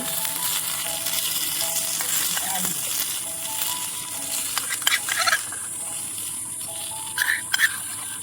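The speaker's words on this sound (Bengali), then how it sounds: "এবার সেদ্ধ করে রাখা চাউমিন কড়াই ঢেলে দিলাম।" Boiled chow mein noodles hiss and sizzle steadily in a miniature wok on a tiny stove, with occasional scraping and clinks of stirring and faint voices in the background.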